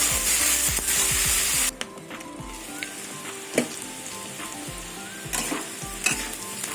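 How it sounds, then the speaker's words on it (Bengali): Salted figs frying in a pan, a loud, bright sizzle that suddenly drops to a quieter crackle, with occasional spatula scrapes and taps against the pan. "ডুমুরটা ভেজে ভেজে একটু ভেজে নেবো"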